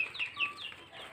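Chickens cluck and squawk faintly in the background at a rural outdoor cooking spot, a short scatter of calls.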